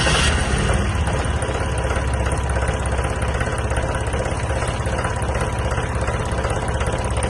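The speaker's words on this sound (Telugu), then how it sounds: "సో ఇంత అయిపోయాక ఇంజన్ కండిషన్ సౌండ్ చూసుకోకపోతే ఎట్లా" A two-wheeler engine idles steadily close by, a loud, continuous low rumble with an even pulsing beat throughout, running alone with no talk.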